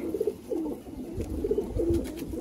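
Teddy pigeons cooing, short bursts of soft throaty coos in two clusters, close and clear with no talk.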